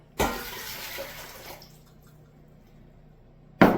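Water for pickle brine pours in a brief rush from a measuring cup into a pot, then trails off into drips, followed by a quiet stretch and a sudden second splash.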